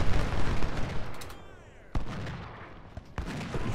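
Musket volleys in the Civil War strategy game Ultimate General: Civil War at the First Battle of Bull Run, with dense rolling rifle fire, sharp separate cracks and booming reports, loud and continuous, over a voice speaking.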